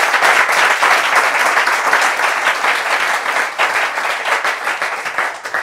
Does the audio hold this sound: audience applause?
yes